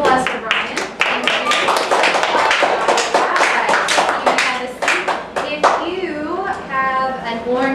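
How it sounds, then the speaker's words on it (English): A fourth-grade class gives a quick round of applause for a classmate, many small hands clapping in a busy, uneven patter, with a voice talking over the end. "Round of applause for Brian."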